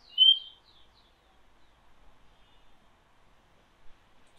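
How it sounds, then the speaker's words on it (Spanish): A Quito rocket frog's call played from a recording: one short, high chirping burst at the start and a faint second note later, surrounded by near silence. "Y ellas, en cambio, cantan así. Rana cohete de Quito."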